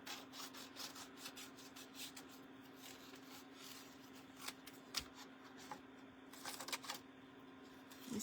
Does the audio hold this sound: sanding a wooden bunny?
yes